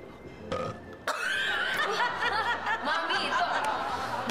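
A loud, drawn-out burp in a burping contest, rumbling on for several seconds after a short sound just before it, with faint chuckling around it.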